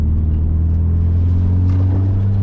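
Car engine under throttle during an autocross run, a loud steady low drone with a slight lift and return to power, close and alone.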